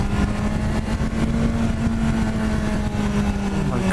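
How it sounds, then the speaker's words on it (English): A 2017 BMW S1000 XR motorcycle exhaust drones steadily and loudly at a constant pitch, heard up close from the rider's position. "at the sounds of the exhaust."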